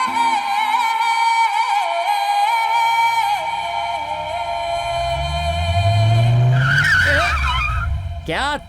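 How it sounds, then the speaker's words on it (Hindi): Car tyres spin and squeal loudly against the ground with the handbrake on and the engine straining, a sustained shrieking skid that swells into a rough roar. "कार स्टार्ट थी मेरी, लेकिन एक्सीलेटर देने पर गाड़ी आगे नहीं बढ़ रही थी"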